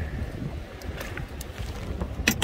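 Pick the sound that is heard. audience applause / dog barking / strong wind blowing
strong wind blowing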